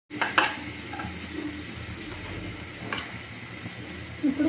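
Tomatoes cooking down with garam masala in a pan for a homemade pasta, a low sizzle under steady stirring and scraping, with a few clinks of the spoon against the pan.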